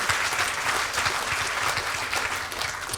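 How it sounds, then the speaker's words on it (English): Audience at a Mountains to Sound Greenway breakfast gathering breaks into steady, dense applause that stays even and fairly loud for the full stretch, with no voices rising above the clapping. "You can clap for that"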